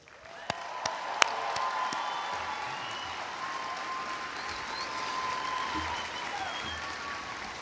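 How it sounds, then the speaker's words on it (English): Sustained applause from an audience at a US Air Force Basic Military Training coin ceremony, honouring military training instructors; steady dense clapping with a few sharp louder claps near the start and faint voices underneath. "Let's all give the MTIs another round of applause"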